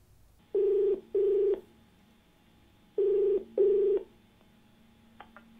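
A telephone ringback tone from a TV call-in show calling a viewer in Haryana: two pairs of steady double rings, separated by a pause, clear over a quiet line.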